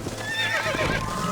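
A horse neighs in Red Dead Redemption: one clear, loud, wavering whinny close by, over a steady low rumble of game ambience.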